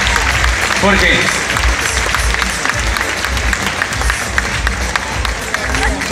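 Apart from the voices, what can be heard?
applause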